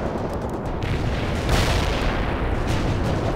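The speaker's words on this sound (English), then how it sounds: "Heavy artillery strike fired." Heavy artillery strike in the World in Conflict strategy game: a continuous roar of rumbling, overlapping explosions, loud and dense, swelling briefly midway with no clear gaps between blasts.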